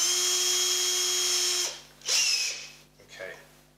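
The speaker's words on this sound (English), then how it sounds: "So, I'll drill a series of pilot holes first." A power drill with a small bit bores pilot holes into a double-neck guitar, a steady high whine for over a second that stops, then two shorter bursts follow.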